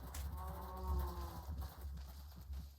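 Cattle lowing in the Minecraft video game, a drawn-out moo with a wavering tone rising over a steady low background hum, fairly faint and with no talk over it.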